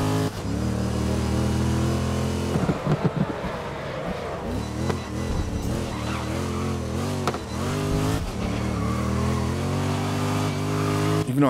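A race car engine in the Grid racing video game revs hard and steadily near at hand, with rising and falling pitch as it shifts gears and accelerates, plus brief tire scrubbing, with no talk.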